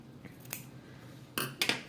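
Scissors trim the end of a cheer bow ribbon, a few sharp, separate snips and metallic clicks spread over a quiet background, close by with no talking.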